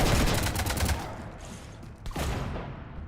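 Gunfire strafes a ship in Mass Effect 3: a rapid close volley of shots rattles for about a second, falls to a quieter mechanical lull, then a second sharp burst hits and trails off.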